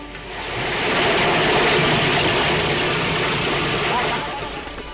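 A chipper and shredder with a built-in blower runs continuously, giving a loud, steady broadband roar with a rushing, surf-like quality that swells slightly in the middle and eases near the end.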